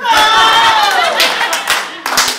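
Audience applause at an improv comedy show, a steady wash of clapping that swells and then thins, with a speaking voice over it.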